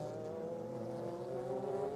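Le Mans prototype and GT race cars at the 2002 Trois-Rivières street circuit run through a turn, a steady distant engine drone with rising revs, fairly faint and continuous.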